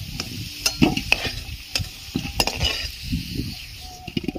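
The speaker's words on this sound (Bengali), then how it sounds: "দেখুন আলুগুলো লাল করে ভাজা হয়ে গেছে" Potatoes fry in hot oil with a close, busy sizzle, punctuated by sharp clinks and scrapes of a utensil against the pan at irregular intervals.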